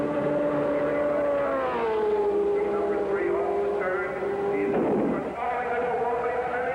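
A 1971 Indianapolis 500 race car engine drones steadily through qualifying, its pitch falling slowly as the car passes, with a brief louder burst near the end and a narrator talking over it.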